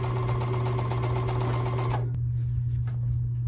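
A home sewing machine stitches quilt fabric using a quarter-inch guide, a close, rapid mechanical whir with a steady motor hum that stops after about two seconds, leaving a low hum and a few faint clicks.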